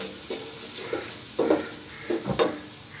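Chopped onions frying in hot oil, a soft steady sizzle broken by several scraping stirs in uneven bursts, close up and free of talk.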